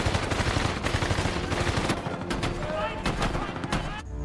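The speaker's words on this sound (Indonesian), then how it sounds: "Tapi pasukan musuh menembaki mereka dari atas perbukitan." Gunfire from enemy troops shooting down from hillsides in the WWII war film Saint and Soldiers, dense bursts of rapid shots and automatic fire layered over a busy battle mix, loud and continuous throughout.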